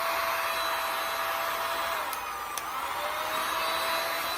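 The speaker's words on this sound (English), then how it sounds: "So I'm going to melt it with my heat gun." A heat gun blows hot air onto a wood panel in a steady, breathy roar with a faint whine, continuous throughout with two brief clicks near the middle, no talking.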